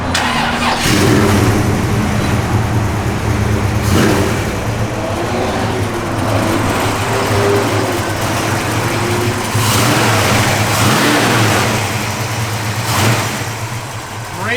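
A 1965 Pontiac GTO engine cranks and fires up, then runs with a loud, deep idle and several revving blips, close and steady throughout.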